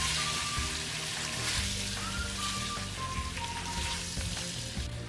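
Onions and spices sautéing in a pan for aloo palak give off a steady, close sizzle and frying crackle, continuous throughout with faint stirring underneath and no talking.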